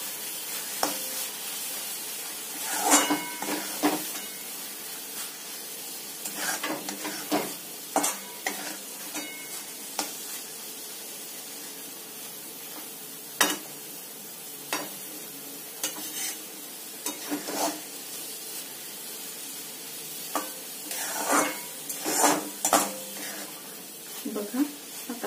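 Carrot halwa with cardamom powder is stirred in a pan, giving a soft sizzle under repeated scraping and stirring strokes at an irregular rhythm, with a person talking at times.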